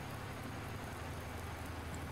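Steady rain hiss in Farming Simulator 19, a dense, even wash of falling drops with a low rumble underneath, constant and moderately quiet.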